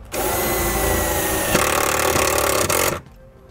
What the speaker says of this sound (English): So we'll just put our self-tapping screw right about here.